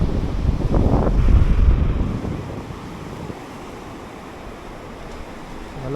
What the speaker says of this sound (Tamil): நல்லா காற்று ஜில்லுன்னு அடிச்சிட்ருக்கு.